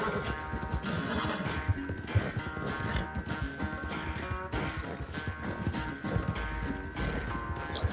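A horse gallops in Red Dead Redemption 2, its hooves pounding out a steady, rapid rhythm through a racing stretch with a constant backdrop of game ambience.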